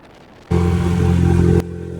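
A dinghy's outboard motor on the water near Maupiti revs up abruptly into a loud, steady buzzing drone for about a second, then drops back to a lower idle hum.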